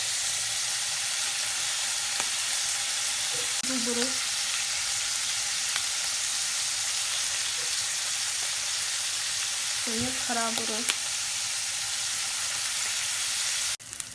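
Meat frying in a pan with a little added water for a funchoza (glass noodle) dish, a constant close sizzle and hiss throughout, with a brief spoken comment over it at two points.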